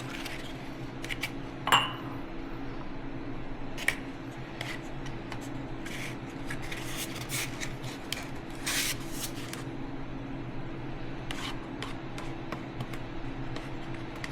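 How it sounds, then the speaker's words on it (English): Fresh persimmon being stirred into L. reuteri yogurt, with light clinks and scrapes of a utensil against a bowl scattered irregularly over a steady low hum, close and fairly quiet. "Alright, so we should just go ahead and mix in. First one is our persimmon."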